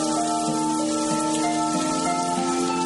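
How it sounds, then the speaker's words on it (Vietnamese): Steady rain falls continuously, a dense even hiss under a sustained musical drone, with no voices. "do mưa liên tục"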